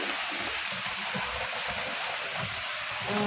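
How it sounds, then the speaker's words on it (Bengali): Steady, dense rain hisses continuously outside a fish market, a broad wash of falling water with no pauses. "এত বৃষ্টি হচ্ছে।"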